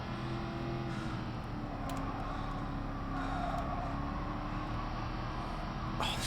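An AC Cobra's engine in the GT Sport racing game, driven at Goodwood Motor Circuit, droning steadily at moderate volume with a sustained hum and slight shifts in pitch, no voices.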